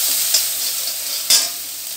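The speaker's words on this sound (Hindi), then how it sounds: "हमने इसमें अदरक लहसुन का पेस्ट डाल दिया है और इसको भी हम भून लेंगे।" Ginger garlic paste fries with browned onions in a pan, giving a steady bright sizzle with two short bursts of stirring.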